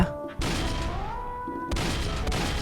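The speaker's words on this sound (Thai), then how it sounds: "กูยิงปืนทั้งสองได้มึงดูนะ" Gunfire in the Roblox game Dead Rails, a couple of sharp loud shots cutting through a steady game background with a faint tonal whine between them.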